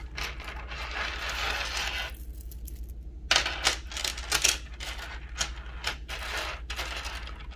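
A clustered tennis chain being handled and hooked into place, giving a run of bright metallic clinks and jingles, some sharp and close, after a steady rustling start and a brief pause; no talk.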